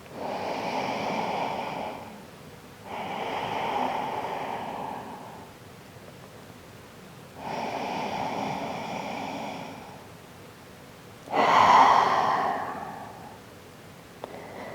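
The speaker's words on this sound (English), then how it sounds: "Making sure to engage that deep belly breathing." Slow, deep belly breaths during a gentle yoga heart-opening flow, four long breathy swells spaced a few seconds apart, close and soft with quiet pauses between them.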